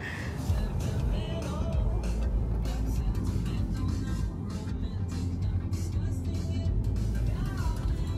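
Rented Tesla car driving on a road in western Canada toward Banff National Park, a soft steady rumble of tires and road noise with faint voices talking at moments.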